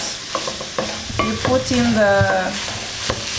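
Ginger and garlic paste stirred into browned onions in a pan for wet fry beef, with a spoon scraping and tapping against the pan over a steady sizzle.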